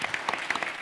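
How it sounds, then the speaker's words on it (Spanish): Audience applause for the panel speakers at a healthcare technology and safety conference session, a short burst of fairly dense clapping with a few sharper claps standing out. "Un aplauso."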